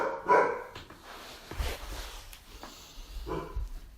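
A pet dog barks a few times indoors, in short sharp yips and woofs at moderate distance, with quieter rustling between the barks.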